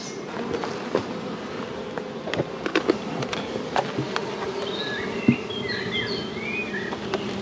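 Honeybees buzz steadily around an open hive during the honey harvest, a continuous close insect drone with scattered louder passes from individual bees over the full stretch.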